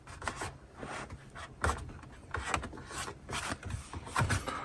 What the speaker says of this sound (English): You can tuck in the edges with your squeegee if you put it a little bit low